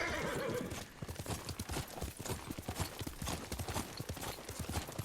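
A horse in Ghost of Tsushima clip-clops steadily over the ground, its hooves close and rhythmic, while it whinnies and neighs near the start.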